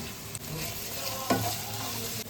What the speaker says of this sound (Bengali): পেঁয়াজটাকে মশলাকে হালকা করে ভালো করে ভাজবো